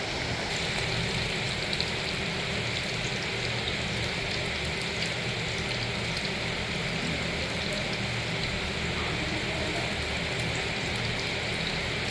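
Heavy rain pours steadily and loudly, a dense unbroken wash drumming on surfaces throughout, with no distinct thunderclap standing out.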